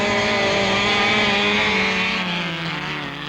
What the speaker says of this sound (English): The flag drops and Lambert rockets the imp into orbit.